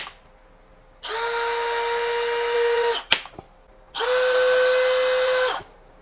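A Bosch GSR 185 power drill runs in two steady, loud bursts of about two seconds each, separated by a short pause with a faint clunk, whining at a constant speed with no voices.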